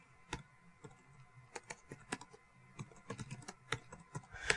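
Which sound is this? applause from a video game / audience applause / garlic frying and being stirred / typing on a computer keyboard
typing on a computer keyboard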